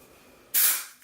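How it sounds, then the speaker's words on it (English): A single forceful burst of aerosol dry shampoo, a sharp loud hiss that starts abruptly and tapers off over about half a second, with a brief faint puff after. "So that's quite a forceful spray."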